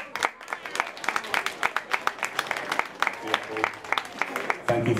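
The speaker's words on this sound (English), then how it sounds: "Thank you for the applause, guys." A cosplay contest audience claps and cheers in a loud, dense burst of applause that runs steadily before swelling near the end.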